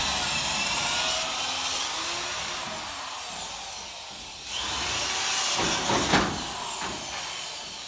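An electric drill bores out spot rivets on the body of a 1966 Chevy Nova race car, a steady high whine that runs close and loud for several seconds, dips briefly, then surges again with a few sharper bursts.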